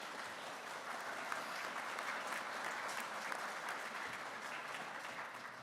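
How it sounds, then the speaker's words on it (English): An audience at the Mat-Su College graduation ceremony applauds in a dense, steady wash of clapping that lasts the whole stretch, heard from within the hall. "Yes, please clap for her."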